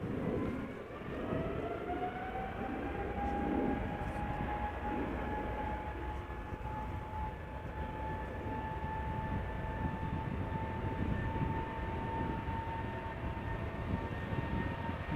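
An airliner with GE90 engines takes off at Amsterdam Schiphol, a loud sustained jet roar with a steady rising whine that holds for the whole stretch, heard from outside with no talk.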